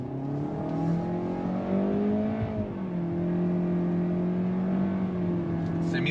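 A Toyota Corolla engine revs up on throttle, its tone rising steadily, dipping briefly at a simulated shift, then holding steady at a lower pitch, close and continuous.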